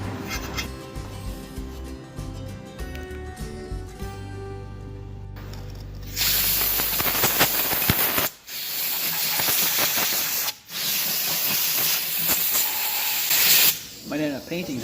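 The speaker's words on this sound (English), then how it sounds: "We're going to give this thing a couple shots of brake clean." Brake cleaner sprays from an aerosol can onto a rusty part of a Coleman 502 camp stove, loud hissing bursts that start partway through and are broken by short pauses, with a voice heard at times.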